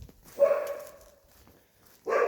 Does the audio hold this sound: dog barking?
yes